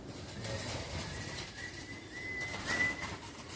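Racing pigeons at a Florida pigeon derby coo and flap their wings outdoors, soft fluttering and muffled calls spread through a steady noisy background with a thin rising whistle near the end, with no one talking.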